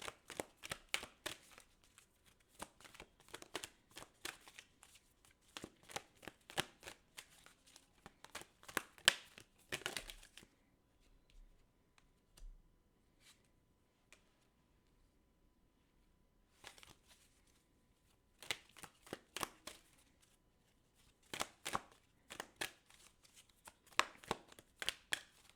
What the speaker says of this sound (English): I'm gonna pull a few more cards to conclude the reading here